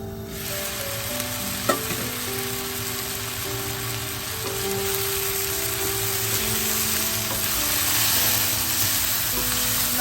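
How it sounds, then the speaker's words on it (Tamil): Chopped tomato and beetroot sautéing in oil in a pan for a Sri Lankan beetroot curry, a loud, continuous close sizzle and hiss with a single sharp clink partway through, no talking. "இனிமேல் இந்த தக்காளியும் பீட்ரூட்டும் கொஞ்ச நேரம் வதங்கட்டும்"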